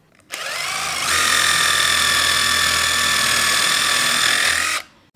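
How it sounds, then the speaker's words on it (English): Driver spinning a stub brad point drill bit through a hole, a loud continuous whining motor that ramps up and holds steady for about four seconds before cutting off abruptly. "Let's drill a hole, Maggie."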